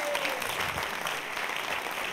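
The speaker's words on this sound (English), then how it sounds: "Give this young lady a round of applause." Audience applause at a live mind-reading show in a Norwich studio venue, a dense steady burst of clapping from a crowd lasting a couple of seconds.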